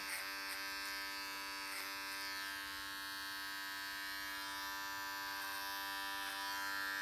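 Electric clippers with a large clipper comb buzz steadily and close up while trimming a full beard, a continuous motor whine with faint shifts as the blades move through hair.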